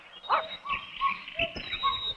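Dog in a cartoon giving several short yips and whimpering barks in quick irregular bursts, fairly close and clear over a quiet background.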